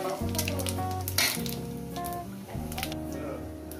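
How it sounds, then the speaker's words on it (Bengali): Dried red chillies and five-spice seeds hit hot mustard oil and sizzle, a bright crackling hiss under a sustained musical tone, moderately close. "তেল গরম হয়ে গেছে, শুকনো লঙ্কা 5 ফোড়নটা আমি দিয়ে দেবো।"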